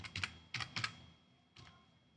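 Quick clusters of keystrokes tap on a computer keyboard, three short bursts followed by a brief final flurry, faint and close in a quiet room.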